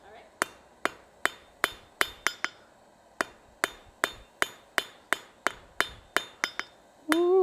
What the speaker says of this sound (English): Let's go to the anvil.